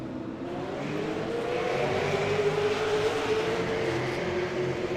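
Pack of race cars at Lucas Oil Raceway accelerating as the pace car pulls off, a rising engine drone with climbing pitch, loud and sustained across the whole stretch.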